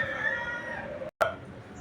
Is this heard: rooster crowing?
yes